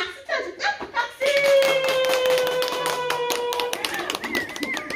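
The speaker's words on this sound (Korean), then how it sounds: "박수 쳐줄까? 박수!" Children in a playful music class clap their hands in a quick run of repeated claps over sustained piano notes, with a voice speaking alongside.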